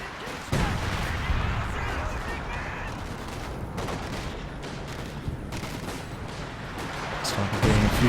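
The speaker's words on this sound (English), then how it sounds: "You may see some artillery coming down in this area shortly." Artillery barrage in the real-time strategy game Company of Heroes 2, a string of loud, sharp blasts and crackling gunfire over a dense battlefield din, with a hard impact near the end.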